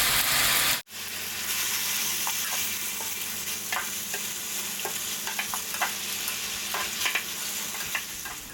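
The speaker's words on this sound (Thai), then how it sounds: "ผัดต่อจนเครื่องปรุงเข้ากันเรียบร้อย" Pork stir-fried with red curry paste and pickled bamboo shoots gives a steady, loud, close sizzle, with scattered scrapes and clicks of stirring throughout and no voices.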